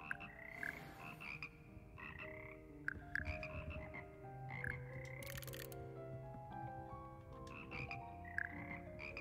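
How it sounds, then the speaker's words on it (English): Frogs of the Hogwarts frog choir croak in a video game, a chorus of varied, tonal croaks and warbling calls overlapping in uneven rhythm, fairly quiet and without speech. "Here perch the slimy yet symphonic frogs that compromise the Hogwarts frog choir."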